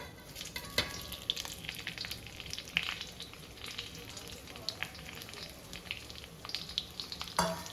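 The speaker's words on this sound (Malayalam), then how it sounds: "ഇതിലേക്ക് നമ്മൾ ആദ്യമേ വറുത്ത് വെച്ച കിഴങ്ങും സവോളയും ചേർത്ത് കൊടുക്കാം" Pre-fried potato and onion pieces go into hot leftover oil in a wok while preparing a Kerala duck roast, producing a continuous close crackling sizzle with scattered spattering pops and no talking.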